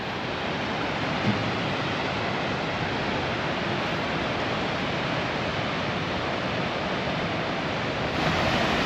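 Steady broadband rush of a waterfall beside a roadside pull-off on the Icefields Parkway in Canada, continuous and even throughout with no voices over it.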